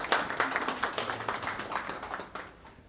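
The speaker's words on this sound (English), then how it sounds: "round of applause for Jeremy as he comes" Sparse audience clapping at a hackathon keynote in a conference hall, individual claps audible at close range, fairly steady for three seconds then thinning toward the end.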